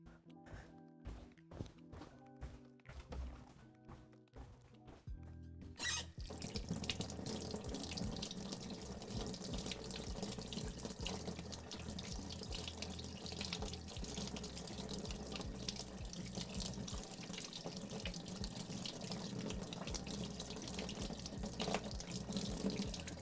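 Tap water runs steadily into a kitchen sink during handwashing, a continuous close splashing rush that starts abruptly after a few seconds of light clatter and carries on alone without talk.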